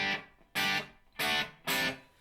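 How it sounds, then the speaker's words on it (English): An electric guitar plays through a NUX pedal set to a subtle Room reverb with the drive off, sounding three strummed chords in a row, each ringing and then decaying with a short, tight tail before the next. "So that's called Room. That is a very, very subtle reverb."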